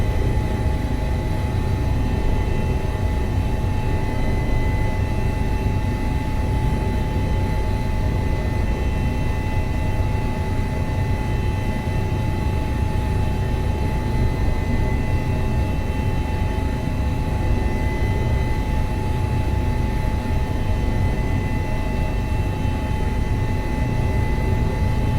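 A helicopter flies in a flight simulator game over the Alpine area around Chamonix and the Aosta Valley, giving off an even, continuous engine and rotor drone with a steady whine on top. The sound is unchanging and heard alone.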